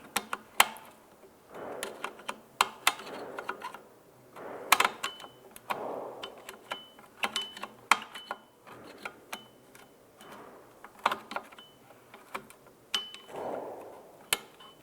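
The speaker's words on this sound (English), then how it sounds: "So we can go ahead and screw the adjuster in." A 2011-2019 Ford Fiesta drum brake adjuster is screwed in by hand, making a rapid run of small metallic clicks and ticks in irregular bursts, close and fairly quiet, with no talking.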